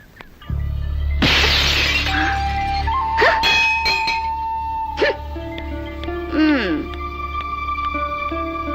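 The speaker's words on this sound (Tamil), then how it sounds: "கண்ணாடி எப்படி உடைச்சன்னு கேட்டா அதான் உடைச்சு காமிச்சு போறா" A glass mirror is smashed with one loud, close crash, followed by scattered tinkling shards and ringing tones over a steady background hum.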